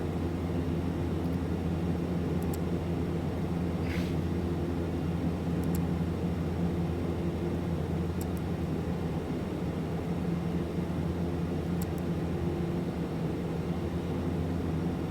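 A light aircraft taxis to general aviation parking in Microsoft Flight Simulator 2024, with a steady, even engine drone and faint clicks recurring every couple of seconds.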